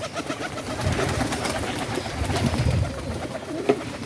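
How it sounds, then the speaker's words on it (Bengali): Pigeons coo softly nearby, low throaty calls repeating over a faint background hum. "এই যে কবুতর।"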